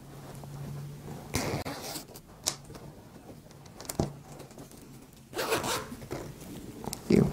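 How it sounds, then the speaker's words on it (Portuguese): A zipper slides back and forth in quick, soft rasping strokes while a fabric makeup case is sewn, close and fairly quiet, with light handling noises between the pulls. "Vamos colocar o zíper."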